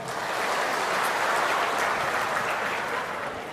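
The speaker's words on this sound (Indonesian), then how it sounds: "Tepuk tangan untuk kita semuanya." Applause from the audience at a national working meeting of a government ministry, a dense, steady wash of many hands clapping at once, moderately loud and continuous with no talk over it.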